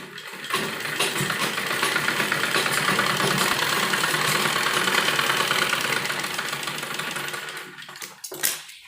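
A sewing machine runs a continuous stitching burst along a kurti lining seam, a steady mechanical whir with rapid needle ticking at close range that stops near the end, followed by a brief clatter.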